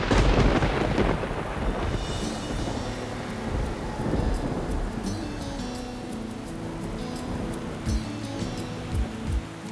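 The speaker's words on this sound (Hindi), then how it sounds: "बारिश इतनी तेज हो रही है ना" Heavy rain pours during a slow car drive while thunder rolls, with deep rumbling bursts near the start over a constant dense hiss of downpour and scattered sharper drops and cracks later, and no voices.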